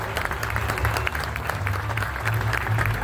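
Crowd applause at a posthumous memorial tribute to a singer in Monción, Dominican Republic, steady and sustained clapping from many people throughout, fairly close and even in loudness.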